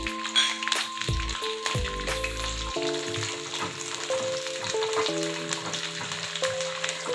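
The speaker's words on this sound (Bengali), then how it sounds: "কিছুক্ষণ এটাকে একটু তেলের মধ্যে ভেজে নিতে হবে।" Mustard seeds and curry leaves fry in hot oil for a coconut chutney served with dosa, a close, steady sizzle with light crackling that runs throughout.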